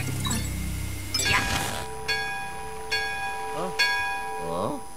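Bell ringing in the video game Luigi's Mansion 3, three clear metallic chimes with ringing tones spaced about a second apart, amid game effects and brief voice-like sounds.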